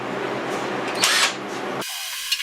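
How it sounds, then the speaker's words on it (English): A Harbor Freight cordless impact wrench hammers in a short burst about two seconds long and then cuts off abruptly, close and loud, with a brief clink after it. "It's a Harbor Freight cordless impact. Might as well use it, right?"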